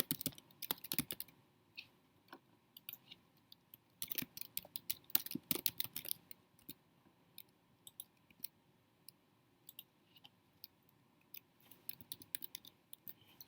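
Fast, light clicking of typing on a computer keyboard while filling in form fields, coming in bursts separated by short pauses, close and quiet with no talking.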